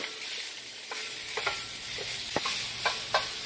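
Sausage being broken up and browned in a pan for a sausage-cranberry dressing, with a steady hiss of frying under sharp spatula scrapes and taps against the pan, all fairly close and with no voices.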